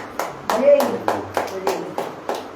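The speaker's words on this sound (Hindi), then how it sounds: "ताली वाली बजेगी कि नहीं" A congregation at a Christian sermon claps together in an even rhythm, eight or so crisp, distinct claps spaced evenly apart, with a faint voice murmuring underneath.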